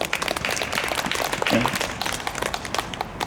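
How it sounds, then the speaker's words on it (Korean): Applause from a church prayer-meeting congregation, dense clapping spread across the room, steady and moderately loud throughout with no break. "그래도 앞으로 박수 한번 칩시다."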